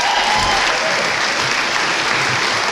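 A graduation ceremony crowd gives a round of applause to the class of 2025 academic award winners, sustained loud clapping that fills the space evenly without pause.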